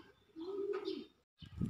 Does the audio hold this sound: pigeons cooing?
yes